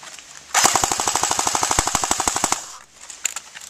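Rapid automatic fire from a GF 47 rifle during a shooting test, a loud burst of about twenty evenly spaced shots lasting two seconds, followed by a few scattered clicks and pops.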